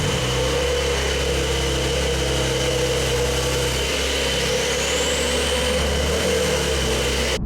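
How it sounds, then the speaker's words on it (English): A new base-model Porsche 911 engine idles steadily and loudly up close, a constant low hum with no talk over it. "I'll take you out in the cheapest new Porsche 911 first"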